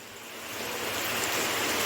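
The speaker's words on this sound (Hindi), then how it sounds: "यहाँ पे देखिए बारिश हो रही है।" Evening rain falls in a dense, even hiss that swells slightly louder over a couple of seconds, with no voices.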